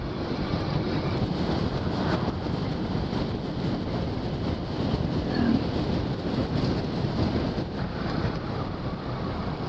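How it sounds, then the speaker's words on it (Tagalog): Steady wind roaring over the microphone during a motorcycle ride on a wet road toward Dingalan, Aurora, a dense continuous rush with no breaks and no speech. "Ano, nagbabadyang hangin."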